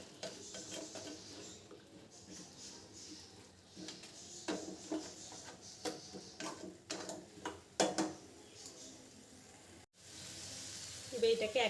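Spices being stir-fried in a pan for a Bengali raw banana curry, giving a steady close sizzle with scattered scraping and clinking sounds throughout.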